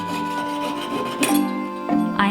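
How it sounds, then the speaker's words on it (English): A hand file rubs back and forth across the ends of silver wire at a jeweler's bench, giving a few short, close rasping strokes with faint scraping in between. "I am filing down the ends of the wire before soldering."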